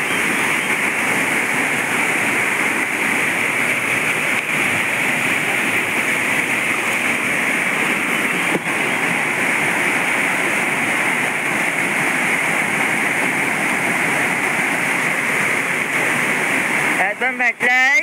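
River water rushing steadily in the Konkan countryside during crab hunting, a loud continuous broadband roar throughout, with voices talking over it.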